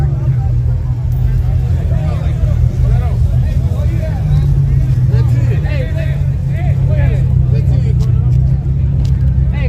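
A turbocharged V6 car doing a burnout, its engine roaring loud and steady with tire noise for the whole stretch, while a crowd chatters in the background.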